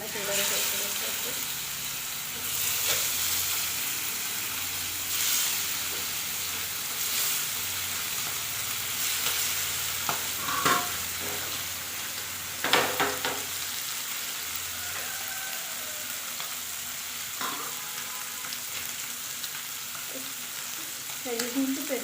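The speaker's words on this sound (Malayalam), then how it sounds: "മീൻ മസാല ചെയ്യുന്നു കേട്ടോ. അതൊന്ന് നമുക്ക് ഫ്രൈ ചെയ്തെടുക്കാം" Fish masala frying in hot oil with curry leaves in a home kitchen: a constant, bright sizzle runs throughout, with occasional louder crackles and stirring clatter. Voices are faintly present underneath.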